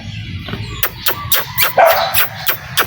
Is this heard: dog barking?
yes